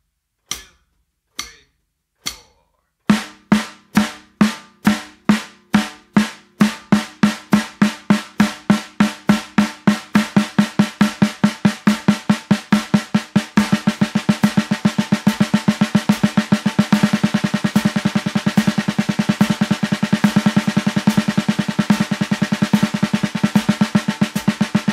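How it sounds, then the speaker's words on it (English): Single strokes on a snare drum played as a subdivision pyramid, starting with sparse widely spaced hits and steadily accelerating into dense, rapid even strokes that blur into a continuous roll, crisp and close. "So the subdivision pyramid with no foot pattern or anything, played as singles on the snare drum, sounds like this."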